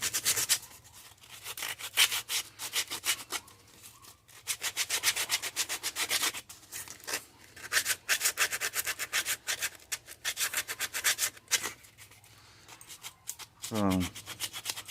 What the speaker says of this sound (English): I just take this old rough grit and we just start shaping them